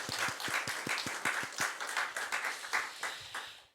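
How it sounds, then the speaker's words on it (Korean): A church congregation at a second-anniversary thanksgiving service on Pentecost Sunday claps in unison, a steady rhythmic series of sharp, fairly quiet claps that fades out at the end. "우리 감사와 영광의 박수 한번 하겠습니다"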